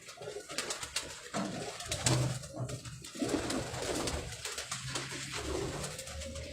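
Domestic pigeons coo steadily in repeated soft, throaty calls, close by and moderately quiet, with faint clicks and rustles of a kept flock around them.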